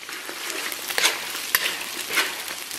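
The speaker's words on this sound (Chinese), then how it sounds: "继续给它煸炒一下，" Pork knuckle sauce with Pixian chili bean paste and chili sauce being stir-fried in a wok, producing a loud close sizzle broken by several scraping strokes of the spatula.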